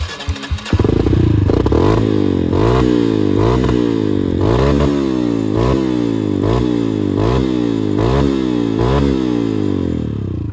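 Off-road trail motorcycle on the Bromo Tengger Semeru route revving hard in a rapid run of loud, close throttle bursts, each rising and falling in quick rhythm, with no talking.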